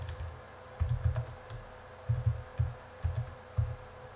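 Fingers tap on a computer keyboard in quick clustered bursts of soft, near clicks, with short pauses between groups of keystrokes, alone without voices.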